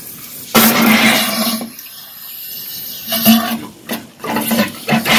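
Water gushes from a tap opened only slightly yet with strong pressure, coming in loud, hissing surges broken by short pauses, with no talk.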